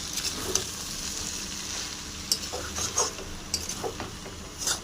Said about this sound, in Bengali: এবার দিয়ে দিলাম ম্যাগি মশলা। ভালো করে মিক্স করে নেব।